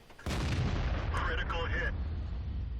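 A single heavy boom from a tank destroyer's gun in World of Tanks, loud and close with a long rumbling tail, while a voice speaks over the decay.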